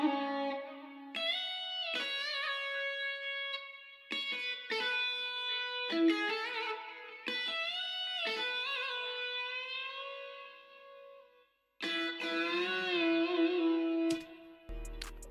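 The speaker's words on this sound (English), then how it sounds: "the guitar we used is this catchphrase one from Evolution Strawberry" A sampled guitar, the Catchphrase instrument from Evolution Strawberry, plays a melodic picked line with sustained notes and slides, clean with light echo, at moderate level and without any talk.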